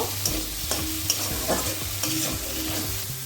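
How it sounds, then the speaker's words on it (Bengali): Chhena (fresh cottage cheese) fries in ghee in a pan for Krishnanagar sarpuria sweets, with a soft steady sizzle and regular scraping stirs against the pan. "এবার আমি দিয়ে দিচ্ছি ছানাটা ছানাটা দিয়ে একটু নাড়তে থাকব"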